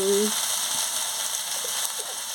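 Soybean chorchori fries in a pan with a steady, fairly quiet sizzle and occasional stirring clicks, following a brief voice at the very start.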